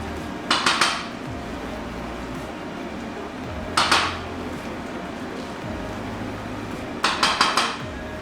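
Metal pot lid clanking onto a cooking pot of coconut jollof rice, three short bursts of clattering metal separated by quiet stretches, close and alone.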